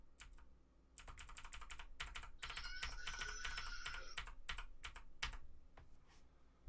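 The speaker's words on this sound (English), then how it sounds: "if you push F on your keyboard." Keys pressed on a computer keyboard during a Carcassonne board game played on a computer, heard as a quick run of close, crisp clicks and taps with short pauses between bursts.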